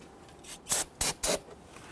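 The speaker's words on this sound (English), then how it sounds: "I'm going to start by spraying down our reservoir here, cleaning up any debris." Three quick hissing bursts of spray cleaner hit a Nissan Quest brake fluid reservoir, close and crisp, followed by quiet.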